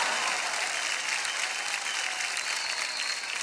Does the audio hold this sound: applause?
yes